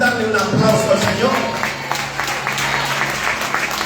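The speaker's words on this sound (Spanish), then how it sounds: "¿Cuántos pueden darle un aplauso al Señor?" A church congregation breaks into applause during a sermon, a burst of many hands clapping that fades out over a few seconds, with a voice speaking over it.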